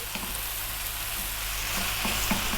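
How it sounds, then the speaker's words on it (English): Cabbage sizzling and crackling steadily as it is stir-fried in a hot pan, with occasional stirring scrapes and pops, close and continuous. "Stir frying it around."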